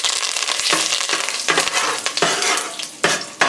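A tempering of mustard seeds, asafoetida, broken chillies and curry leaves fries loudly in hot oil for a tomato pickle, a dense close sizzle broken by repeated scraping stirs and spattering bursts.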